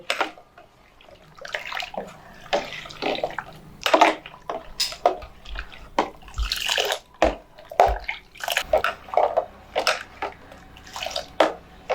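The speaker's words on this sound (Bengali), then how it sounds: "এবার এটার সাহায্যে আমি দুধটা খুব ভালো করে জলের মধ্যে মিশিয়ে নেবো" Milk stirred into water in a pot for a rice pudding, giving repeated close splashy swirls and clinks of the utensil against the pot in an uneven rhythm, with no talking.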